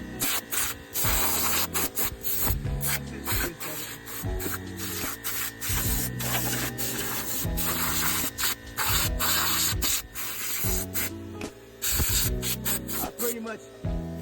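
Compressed air blasts hiss in repeated bursts with towel rubbing during car interior detailing, where air clears cracks alongside degreaser; steady, close sounds with strong broadband spray texture and brief gaps, over music-like tonal background.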